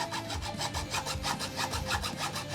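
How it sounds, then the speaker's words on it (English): A hand saw cuts through the plastic body shell of an RC car in steady, rapid back-and-forth strokes, close and loud with no talking. "So I got this saw here."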